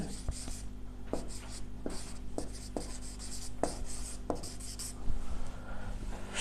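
Chalk or marker writes numbers on a classroom board with sharp taps and short scratchy strokes in an irregular rhythm, close and clear over a faint background hum, with no speech.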